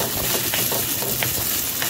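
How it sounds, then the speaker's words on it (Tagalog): Half-boiled spaghetti being stirred in sauce in a pan, a continuous close sizzle with soft scraping and wet clicks throughout. "Haluin lang natin"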